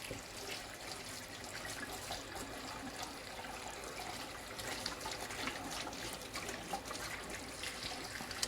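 Kitchen tap running steadily while a spatula is washed during scone baking, a continuous faint hiss of flowing water with no speech.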